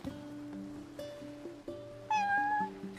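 A cat meows in the video game Final Fantasy XV, a rising drawn-out mew over steady game music, fairly clear and close.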